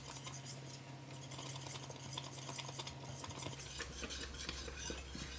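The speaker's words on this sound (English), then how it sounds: "I'm going to boil this and keep stirring for 1 minute" Quiet, continuous stirring of boiling strawberry balsamic jam in a large pot, with a utensil scraping the pot steadily beneath soft bubbling and a low hum.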